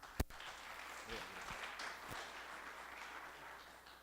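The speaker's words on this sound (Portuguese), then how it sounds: "Uma salva de palmas." Audience applause follows the introduction of a talk on personal data protection and digital education in companies, a steady spread of many hands clapping, moderately loud, after a brief sharp knock at the start.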